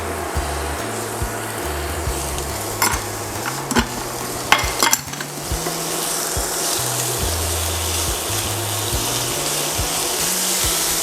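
Garlic, onion and tomatoes sauté in a pan for ginisang miso, a steady loud sizzle with stirring scrapes and a few sharp utensil clinks.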